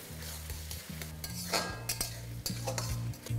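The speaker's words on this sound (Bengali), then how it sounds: "পেঁয়াজটা যতক্ষণ না ট্রান্সলুসেন্ট হচ্ছে ততক্ষণ এটাকে এইভাবেই মেশাতে থাকুন" Chopped onions sizzling in hot oil in a pan while being stirred for chicken fry, a steady frying hiss broken by spoon scrapes and clinks against the pan, close up, with no talking.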